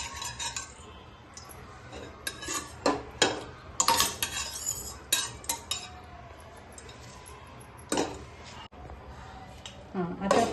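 A spoon scrapes and clinks against a kadhai while spreading ghee for carrot halwa, giving irregular metallic taps and strokes, some sharper and louder, over a quiet kitchen background.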